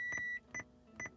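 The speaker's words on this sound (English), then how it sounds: "Can't get this beeping to go away. It never ever wants to turn off." Three short electronic beep bursts at an even pace, loud and close inside a cabin, from an aftermarket radio fitted in a manual Scion FR-S, with no talking.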